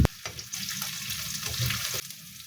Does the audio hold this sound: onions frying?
yes